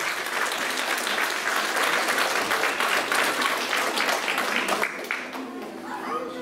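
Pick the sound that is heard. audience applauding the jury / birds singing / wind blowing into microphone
audience applauding the jury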